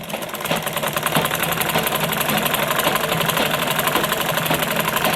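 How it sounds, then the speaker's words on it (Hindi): A sewing machine runs a second line of stitching along a blouse collar, a loud, close, continuous mechanical whir with a fast steady rhythm throughout. "इस पे एक मशीन और चलाएंगे, डबल सिलाई"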